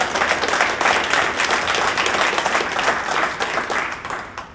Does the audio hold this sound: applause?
yes